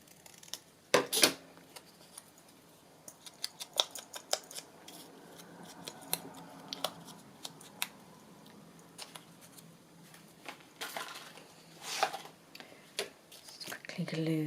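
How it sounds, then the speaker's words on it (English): Scissors snip and trim the bottom edge of paper for a handmade card, giving sporadic sharp close cuts amid light paper handling and soft, quiet speech. "A little bit to trim off the bottom there."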